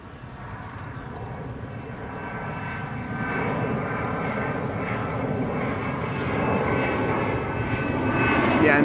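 An Embraer 190 airliner takes off at Amsterdam Schiphol, a steady broad engine roar building gradually in loudness over several seconds, heard from a distance with no talking.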